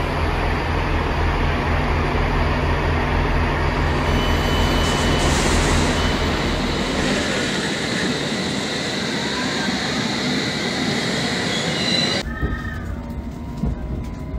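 A London Underground Metropolitan line train pulls away from Harrow and gathers speed towards Finchley Road, a loud continuous rumble of traction and wheels on track with a rising whine, the noise easing and changing character near the end.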